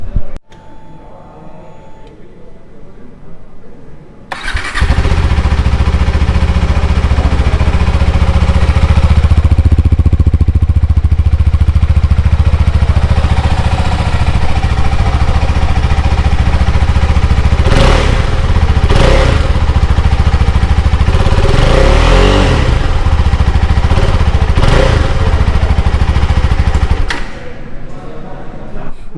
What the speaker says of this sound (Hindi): तो जल्दी से इसका exhaust note सुनते हैं and let's see how it sounds.